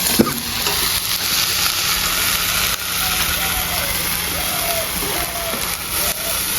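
Rohu fish curry with eggplant, onion-garlic paste and mustard paste stirred in a hot pan gives a loud, continuous sizzle broken by repeated scraping stirs, with a voice talking underneath.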